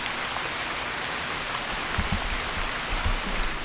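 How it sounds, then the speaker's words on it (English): Steady rain falling outside on a cloudy day, a dense continuous hiss with a few louder drops or thuds near the middle, no voices. "It's been raining like this for literally the entire day."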